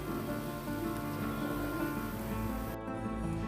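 Orange-coloured gram flour (besan) boondi batter deep-fries in hot oil with a dense, continuous crackling sizzle much like heavy rain, close and steady throughout.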